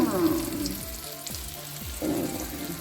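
Food sizzles and fries in a pan during home cooking, a close crackling hiss with occasional stirring scrapes and bursts of louder spitting.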